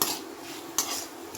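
A spoon scrapes and clinks in a frying pan as jaggery or sugar is stirred into a dish, with two short sharper knocks against the pan, close and alone.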